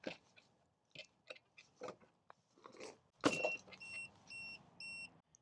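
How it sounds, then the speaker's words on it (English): Alarm on a locked, switched-off Aventon Abound SR e-bike sounds a series of short, evenly spaced high beeps, about four in a row, after some handling clatter and clicks, close and moderately loud. "That beeping is warning us that, hey, something is going on and to stay away."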